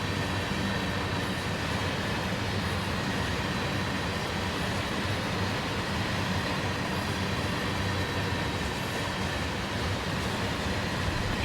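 Freight train Q249 rolls along on flat track with a dense, steady roar of rumbling wheels and rattling cars, loud and unbroken throughout.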